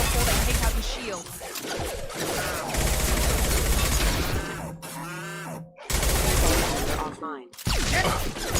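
Automatic weapons fire from a Mass Effect 2 firefight against hostile mechs, dense rapid bursts with crashes and whooshes, paused briefly in the middle, while a voice speaks over the shooting.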